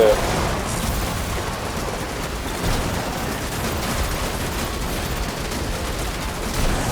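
Continuous heavy gunfire from the video game The Matrix Awakens, a dense steady barrage of shots lasting throughout with no pauses.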